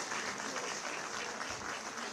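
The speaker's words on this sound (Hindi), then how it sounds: "एक बार जोरदार तालियां" Audience clapping at a ceremony honouring girls who topped their districts, a dense, even burst of applause from a crowd that holds steady for about two seconds.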